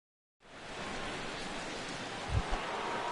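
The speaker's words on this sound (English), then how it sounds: "as the rain continues to fall here" Rain falling steadily over a ballpark in a baseball video game, a soft, even hiss that starts after a brief silence and continues with a couple of low thumps, no talking.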